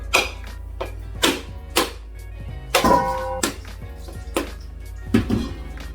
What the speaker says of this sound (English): Crack the coconut.